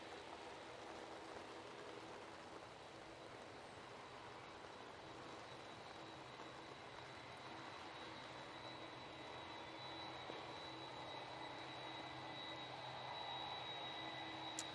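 A plane on final approach at Manchester Airport gives a faint, steady distant jet roar with a thin high whine that holds throughout, swelling slightly near the end.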